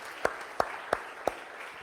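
A church congregation claps in unison as an offering to Jesus: four sharp, evenly spaced claps at a moderate, deliberate pace over a soft room murmur, with no voices between them.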